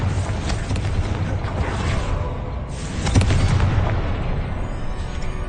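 Fiery blasting spell explosions in a fantasy spellcasting video game, rumbling booms with a heavier burst midway, loud and dense over game sound, no talk.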